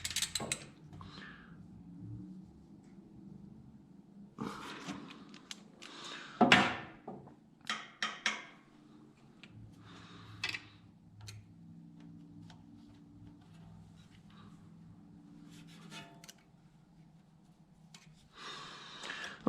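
A wrench backs off a valve adjuster on a Ford 5000 tractor, giving a few faint metallic clicks and ratcheting creaks spread through long quiet stretches, close by.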